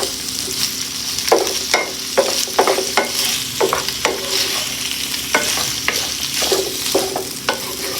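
A spatula scrapes and taps repeatedly in a pan while tofu is stirred for a budget tokwa soup, a steady sizzle running underneath the irregular metallic strokes, close and fairly loud.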